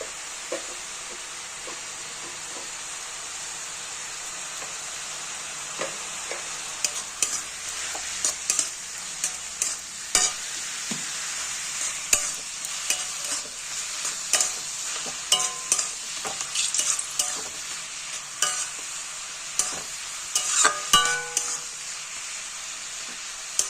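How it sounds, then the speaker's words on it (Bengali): Cabbage stir-fried with turmeric in a pan, sizzling steadily while a utensil scrapes and stirs in frequent irregular strokes, close up and without any talking. "বাঁধাকপি ভাজা অনেকটা হয়ে এসছে, সুন্দর মজে গেছে।"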